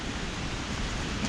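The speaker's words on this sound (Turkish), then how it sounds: "Evet şelalenin sesi" Steady, dense rushing roar of a waterfall near mine caves, loud and continuous without pauses, a broad wash of noise close by.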